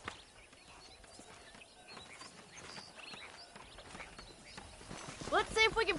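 Horse hooves clip-clop in a steady walking rhythm in a western cowboy video game, fairly soft and close, ending with a louder neigh.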